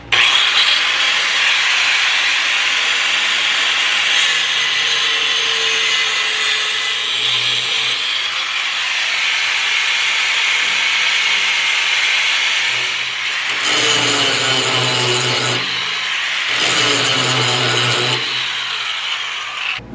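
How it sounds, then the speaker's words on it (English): A trailer axle bolt being cut out during a tandem axle wet bolt kit install, a loud continuous grinding whine with harsh rasping bursts that rise and fall, close and alone without talk. "I'm going to go ahead and cut this bolt out because it's probably going to fight me"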